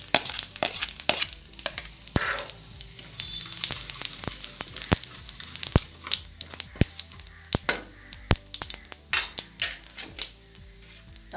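Whole cumin seeds frying in hot oil for an Assamese tomato fish gravy, a steady close sizzle broken by frequent sharp crackles and pops throughout, with no talk.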